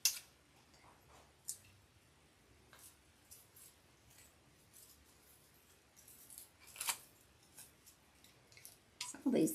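Scissors snip through stiff material for a homemade snowman hat, a few sparse, sharp cuts spread apart at close range, with quiet handling noises in between.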